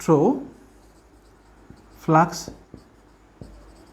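Marker or chalk writing on a board during a Class 12 physics lecture on Gauss's law gives faint scratchy strokes and light taps, with brief voiced sounds from the teacher in between.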